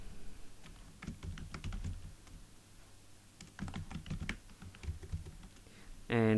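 Typing PHP code on a computer keyboard, with rapid, uneven bursts of close key clicks that pause briefly mid-clip before resuming.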